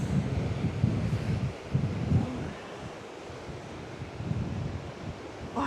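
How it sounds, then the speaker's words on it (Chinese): Waves churn at an Australian seaside pool on a cold day, a steady broadband roar of surf and gusty wind buffeting the microphone, loud and continuous with no voices. "感覺來自四面八方的海浪在這裡攪和"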